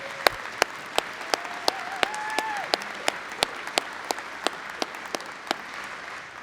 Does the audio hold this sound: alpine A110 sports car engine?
no